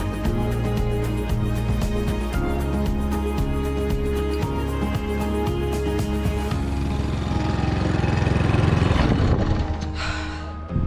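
A lawn scarifier rakes a mossy lawn in February, its motor droning steadily and loud with a rough, rattling texture while the blades scratch the soil surface, then the pitch falls away near the end as the machine slows.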